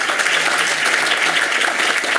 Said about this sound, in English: let's give a round of applause for our kids